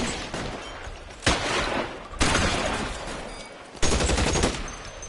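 Gunfire in the video game L.A. Noire: several sharp, loud shots cracking out at irregular intervals, each followed by a lingering noisy decay, with no speech over them.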